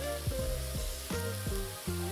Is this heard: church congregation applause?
no